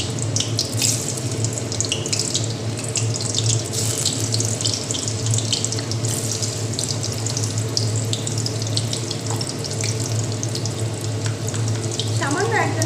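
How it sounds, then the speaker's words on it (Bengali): Boiled potatoes fry in hot oil with a dense, continuous hiss and crackle that runs steadily throughout, plus faint clicks of a utensil near the end. "তেলটা গরম হয়ে গেছে, আমি আলুগুলোকে আগে একটু ভাজা করব।"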